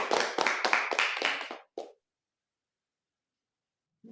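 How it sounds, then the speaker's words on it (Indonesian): Classroom hand clapping from a group of students, several quick claps over about a second and a half, then a short final clap and silence. "Mari kita beri tepuk tangan."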